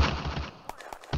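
Heavy small arms fire crackles in the World War II game Firefight Ost Front, sharp gunshots popping in a rapid, irregular burst. Low battle rumble sits underneath, and the shots are moderately loud and close.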